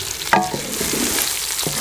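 Green chillies fry in a pan with masala spices, coriander, salt and fennel while a spoon stirs them, a loud, close, continuous sizzle broken by a few scraping knocks.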